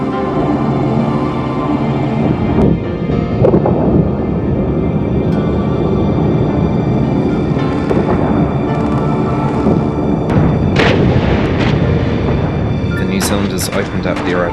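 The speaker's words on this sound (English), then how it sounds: "Opened up their artillery." Artillery fire at Cassino during the Second World War battle, rumbling booms and distant blasts under a dense, noisy wartime soundtrack with a voice speaking over it.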